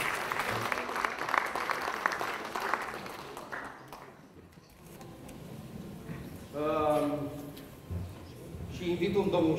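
A theatre audience at a festival claps heartily for a few seconds, then the applause fades away and a person begins speaking over the quieter room.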